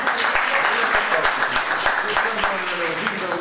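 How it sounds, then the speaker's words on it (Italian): Audience applause for a priest at a book presentation in Casapesenna, Italy, steady crowd clapping with some distinct sharp claps standing out, mixed with voices talking throughout. "facciamo un applauso a Don Vittorio"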